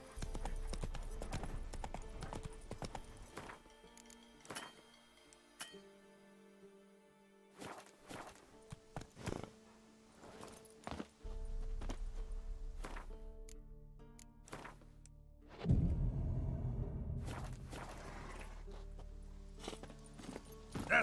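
Hooves of a horse clip-clop at a walking pace in The Witcher 3, steady close footfalls with scattered thunks and a brief louder rustle of movement near the end.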